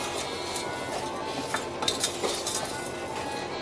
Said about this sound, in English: So now just give it a quick mix, the sugar and the berries.